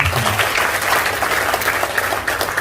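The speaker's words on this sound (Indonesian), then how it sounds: "Tepuk tangan buat Bapak Ibu." Seminar audience applause on debt repayment, a loud, dense burst of clapping from a crowded room, continuous throughout with a faint low hum beneath.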